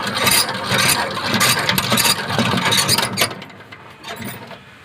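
A hand-cranked honey extractor spins with rattling, ratchety mechanical whirring and clunks that come in uneven bursts, then ease off toward the end.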